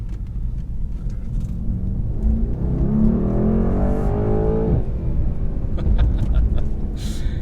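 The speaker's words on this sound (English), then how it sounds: "you get that loud exhaust with those backfires and burbles" A 2019 Mercedes-AMG E63 S sedan with a loud exhaust gives a steady deep rumble that rises in a revving surge, then settles back to a burbling idle, close and loud throughout with no talk.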